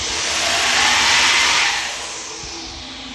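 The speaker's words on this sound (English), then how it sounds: "I'll just show you quickly what it sounded like." A Pulsar G35-900 (6262G) turbo spins up on a balancing machine, a loud rising whine that swells to a peak and then eases off slightly while still spinning.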